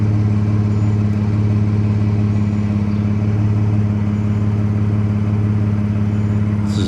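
A Chevrolet Colorado ZR2 Bison pickup with a Corsa exhaust idles steadily nearby, a smooth, continuous low drone with an even hum and no change in pace throughout.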